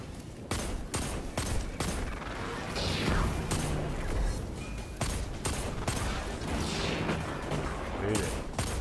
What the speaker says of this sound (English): Gunfire here.